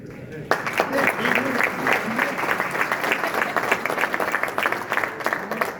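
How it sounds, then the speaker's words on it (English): An audience applauds coach Peter Jelly at a keynote introduction, a dense, steady wash of many hands clapping at moderate distance that carries on for several seconds. "Give Peter a round of applause."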